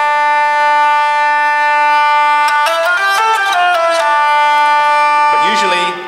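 Hurdy-gurdy sounding a single string, a loud, steady buzzing reedy tone that holds one pitch, then steps through a short run of melody notes before trailing off.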